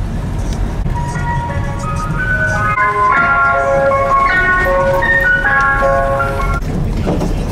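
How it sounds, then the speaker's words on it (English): Ice cream van chime playing a repeating melody a short way off, steady and clear over a constant low outdoor rumble of traffic or engine noise. "There's an ice cream van up there."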